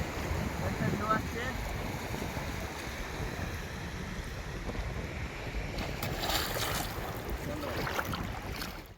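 Sea waves washing along a beach in the Andaman Islands, a continuous rushing surf with wind buffeting the microphone and a louder breaking swell near the end, no talk.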